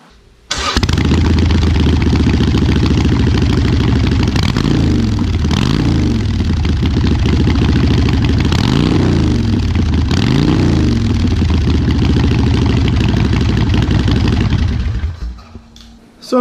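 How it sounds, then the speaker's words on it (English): A Harley-Davidson Iron 883 Sportster with a Vance & Hines Short Shot staggered exhaust and quiet baffles starts up close by, then idles with a loud, steady rumble, punctuated by a few throttle blips before shutting off. "I'll give this bike a start so you guys can hear what this exhaust sounds like."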